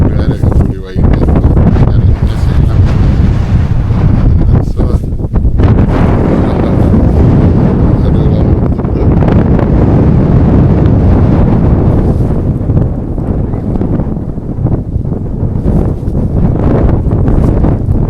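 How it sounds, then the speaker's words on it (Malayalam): Strong wind buffeting the camera microphone on the hilltop at Panchalimedu, a loud continuous roar and rumble that masks everything for the whole stretch, with faint voices buried beneath it. "ക്യാമറയിൽ ആ കാറ്റടിക്കുന്നതുകൊണ്ട്"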